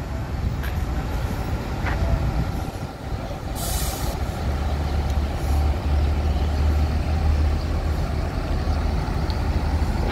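A Pelangi intercity bus on the Aceh–Bandung route rumbles past at close range, its loud, steady engine drone and road noise continuous throughout, with a brief hiss like an air brake near the middle.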